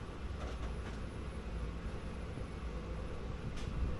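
Express train pulling into Santragachi station, heard as a low continuous rumble of wheels and carriages, steady and moderately faint, with a couple of faint higher clanks and no voices.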